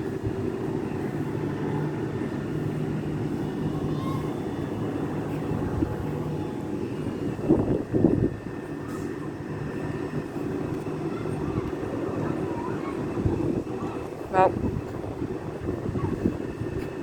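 A Hampton train passes at Southwick with a sustained, moderately loud rumble and a few brief screeches or clanks partway through. No talk is heard.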